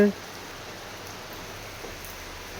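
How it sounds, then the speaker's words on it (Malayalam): Rain falls steadily during the Onam season in Kerala, a constant, even hiss of drops with no distinct gaps. "ഫുള്ള് മഴയും ശോകമാണ്"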